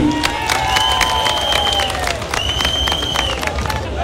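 An audience applauds at a ceremony in Guinea, with sustained clapping and crowd noise plus a few high whistles over a steady wash of sound.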